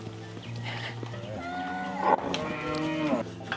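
Cattle on a rural farm in Bonao, Dominican Republic, mooing in long, low, drawn-out calls that run almost without a break, close and fairly loud. No one speaks.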